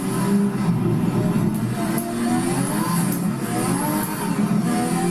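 Lotus 98T Formula 1 car from the 1980s in Assetto Corsa, its engine revving hard and continuously, loud and close, with rising and falling pitch as the throttle is worked.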